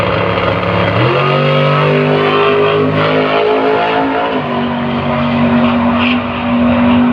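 A big red Pontiac drag car launches at a sunset drag strip in Mildura, its engine a loud, steady roar that rises sharply in pitch as it pulls away, with no talk over it.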